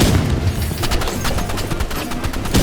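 RPG rocket launcher fire in a video game, a loud dense burst of booming blasts and rapid gunfire that fills the whole moment with no break.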